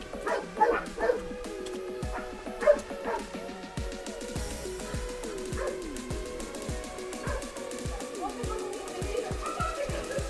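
Dogs barking and yelping outdoors on a walk up to a hilltop castle in Castelo Branco, Portugal, the barks fairly distant and intermittent beneath people talking and a steady background of music or ambient tones.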